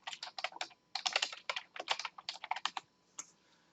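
Quick fingers tap out a word on a computer keyboard, a close, crisp run of clicky keystrokes in short bursts with a brief pause and a final single tap, heard alone in a quiet room.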